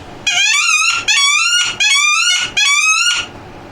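A wood duck call is blown in four loud, close, squealing bursts of about half a second each, evenly spaced, with a harsh piercing whistle quality in a duck call shop.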